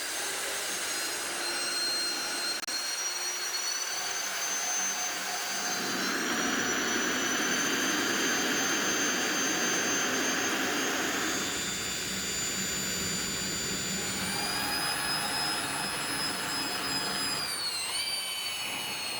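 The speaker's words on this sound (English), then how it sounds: "I use a rotary tool with a specialized burr to refine the inner finger grooves and the edges of the ring." A rotary tool fitted with a burr grinds a cast brass karambit, refining its finger grooves and ring edges. A loud, sustained high whine holds throughout, shifting pitch as the load changes, with no talking.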